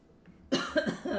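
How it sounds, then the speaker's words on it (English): A person coughs several times in quick succession, close to the microphone and fairly loud, after a quiet start, irritated by the fumes of a freshly opened habanero pepper while cooking Jamaican jerk chicken. "It's like already making me cough like that."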